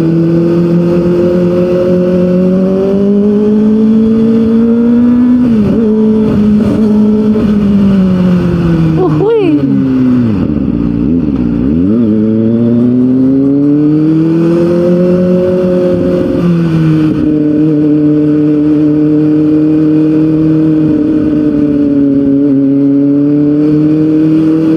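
Kawasaki ZX25 motorcycle on a night ride, its engine droning loud and steady with rising and falling revs, dipping sharply around the midpoint, while someone talks over it.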